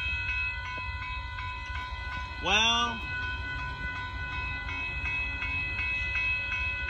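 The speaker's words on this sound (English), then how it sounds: "Here comes Amtrak Texas Eagle train number 21" A southbound Amtrak Texas Eagle passenger train passes at Dittmar Road in Austin, with a rising and falling horn blast in the middle, over steady rumbling rail noise, with a brief spoken word.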